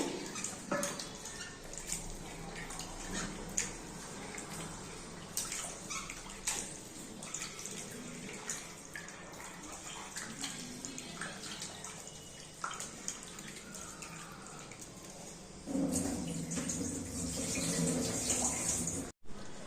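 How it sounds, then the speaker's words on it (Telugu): Raw chicken is washed under running tap water for a biryani, a steady close splash and rush of water with clattering handling noises, growing louder near the end. "చికెన్ అండి ఫస్ట్ వాష్ చేసుకుందాము. త్రీ ఫోర్ టైమ్స్ మంచిగా వాష్ చేసుకోవాలి."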